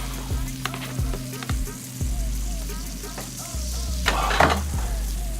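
A toasted cheese sandwich sizzles steadily in a hot pan while a spatula scrapes and clanks against the metal as it is flipped, with a sharper burst of clatter near the end.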